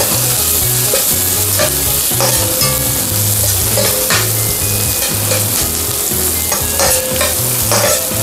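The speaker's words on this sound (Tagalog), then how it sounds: "Continuous lang po natin ang pag-saute. Palabasin lang po natin ang aroma ng ating garlic." Garlic sautés in a hot pan, a loud continuous sizzle with repeated scraping and stirring strokes of a utensil, close up and with no talking.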